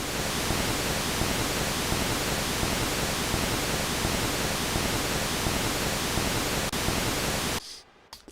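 The noise generator of a Moog Source synthesizer pours out a dense, steady hiss of pink-like noise for about seven and a half seconds, then cuts off abruptly, leaving near silence with a few faint clicks.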